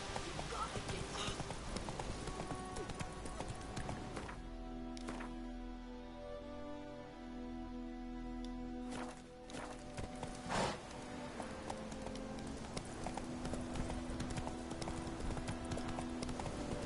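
A horse in The Witcher 3 trots along with steady rhythmic clip-clop hoofbeats, close and continuous beneath background music and occasional speech.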